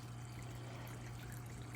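Water from a small waterfall trickles steadily, a soft continuous wash with a low hum underneath, even and unbroken throughout, no voices.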